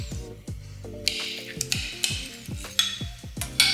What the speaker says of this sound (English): Now we're going to take this and mix that into our sauce here.